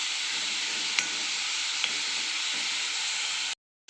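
Spinach sautéing and being stirred in a pan for dal palak, a continuous even sizzle with a couple of faint utensil clicks, heard alone before cutting off.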